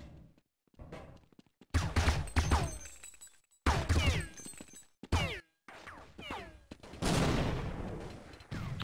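Rapid gunfire bursts from Counter-Strike on the de_nuke map, with sharp shots and sprays broken by short pauses and clicks, loud and close throughout, with occasional voices.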